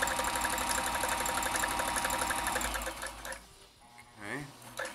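A vintage Janome Combi DX 502 sewing machine stitches a buttonhole with a rapid, steady mechanical whir for about three seconds, then stops; quiet talk and handling noises follow.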